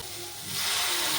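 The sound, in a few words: water poured into pan of frying Malabar spinach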